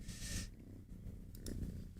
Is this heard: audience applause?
no